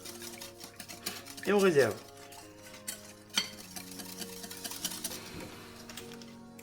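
A spoon stirs and scrapes through a quiche savoyarde filling seasoned with nutmeg and pepper, clinking against the bowl in short bursts while a voice speaks softly now and then.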